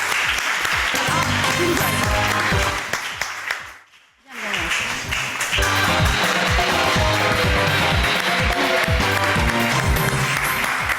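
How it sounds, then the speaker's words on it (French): Loud, sustained audience applause at a French television talent show fills the room, briefly dipping to near silence midway before resuming at full strength. "on l'applaudit très fort, on lui fait un triomphe"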